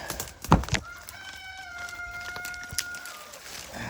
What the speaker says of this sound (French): Le coq nous salue.